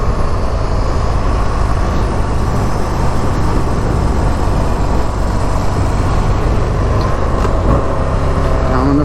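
A motorcycle engine drones steadily and loudly during a lap on a racetrack track day, a dense continuous roar with wind rush and no clear breaks, heard close without speech.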